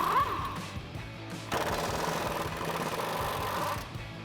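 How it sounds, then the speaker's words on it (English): An 18mm socket loosens the upper rear shock mount bolts on a 2015-2024 Mustang GT. A rapid, loud mechanical rattling starts, surges stronger midway and runs continuously to the end, with no voices. "We have 2 18mm bolts, so we'll grab an 18mm socket to pull out."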